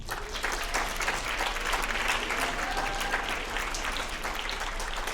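An audience applauds to welcome poet Naomi Shihab Nye, steady dense clapping filling the room throughout without pause.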